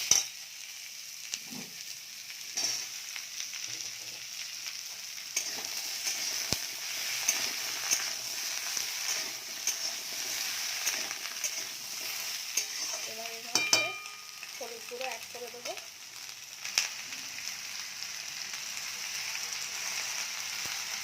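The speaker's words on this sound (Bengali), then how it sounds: "আলুটা ভাজা হচ্ছে হালকা ভাজ হালকা নেড়ে নিচ্ছি" Potatoes and okra sizzle steadily in oil in a pan, with a spoon or spatula scraping and stirring in short bursts partway through; close, continuous frying hiss with no talking.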